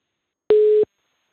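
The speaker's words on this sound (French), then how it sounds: "Alors la communication a été coupée avec Hafid Boutaleb." A single telephone busy tone sounds after a call drops during a live broadcast, one steady beep lasting about a third of a second, clear and alone between silences.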